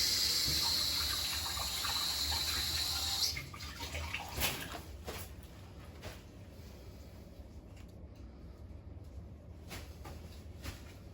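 Water splashes over a hairpiece in a steady, close hiss for a few seconds, then gives way to quieter drips and soft brushing strokes against wet hair.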